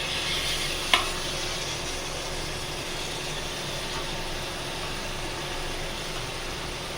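Tomatoes and onions sautéing in a pan for homemade vadi biryani give a steady close sizzle, with a single sharp utensil clink near the start and no talk.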